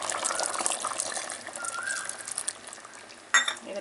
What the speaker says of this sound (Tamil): இதுக்கு நம்ம தேங்காய் பாலை ஊற்றிடலாம்.